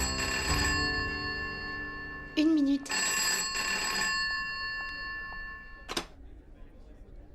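A telephone rings after a number is dialed, with repeated bursts of an electronic ring tone and a short beep between them, while a voice speaks briefly nearby.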